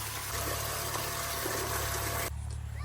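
Two water pump motors run with a steady low hum while water gushes and splashes loudly and continuously, the rushing noise dropping somewhat near the end.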